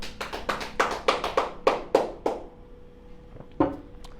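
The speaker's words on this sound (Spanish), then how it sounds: "Le damos un aplauso al Dios de la gloria." Sharp, distinct hand claps during a Spanish-language church service, about nine quick claps in a fairly steady rhythm, then a pause and a couple of isolated claps near the end; close and fairly loud.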